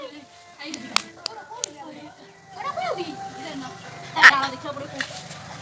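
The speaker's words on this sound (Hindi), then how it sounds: "ये भैया ताली मार दियो" A few sharp hand claps, some single and some in quick pairs, break through chatter from children and other voices.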